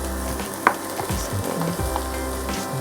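Cubed chicken breast frying in a Saladmaster pan for pancit canton, giving a steady close sizzle with a few sharp clinks and stirring scrapes.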